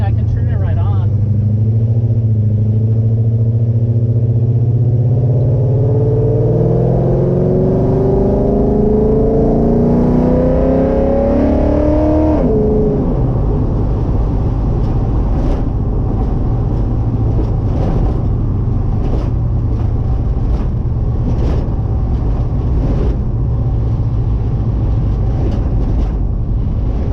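A 1971 Dodge Challenger R/T barn find drives on the street, its engine rumbling steadily close by and rising in pitch as it accelerates through gears, with occasional talk inside the car.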